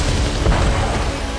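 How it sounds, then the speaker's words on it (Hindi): FAB-500 guided bombs striking Ukrainian positions, several large blasts going off one after another as warplanes pass: a deep, heavy boom swells out of a continuous low rumble, loud and distant-sounding, with no voices. "विमानों के गुजरते ही एक के बाद एक कई बड़े धमाके हुए"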